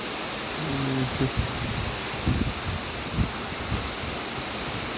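Steady rain falls on a garden house beside a pond, a continuous soft hiss of drops throughout, with a faint, brief trace of a distant voice early on.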